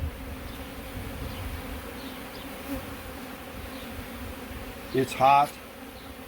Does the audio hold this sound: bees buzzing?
yes